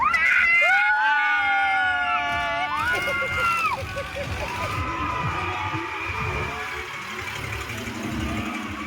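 People scream and shout on a fairground ride as it swings, with sustained wavering cries from several voices up close at the start, then fading into a noisy crowd and ride machinery.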